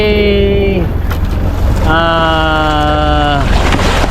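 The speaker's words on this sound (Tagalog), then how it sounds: "Yung dalawang bangka na yan." Two motorboats on the Pacific Ocean hum steadily over water, with two stretches of a high, stacked tonal whine that rise and fall, wind rumbling underneath.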